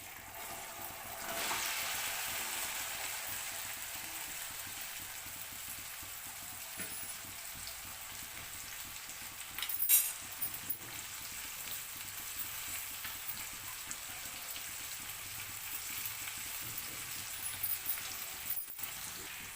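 Cut okra sizzles and fries steadily in a hot pan with turmeric, a continuous crackling hiss with occasional sharper pops as it is stirred, close and alone with no talking.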